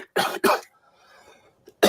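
Two quick, harsh coughs close to the microphone, followed by a brief quiet pause and a faint breath before another sound begins.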